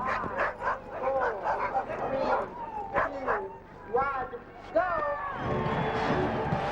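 Sled dogs at a team start in Anchorage, Alaska yip, bark and whine excitedly in an overlapping chorus. The rapid, close calls rise and fall in pitch over a busy background.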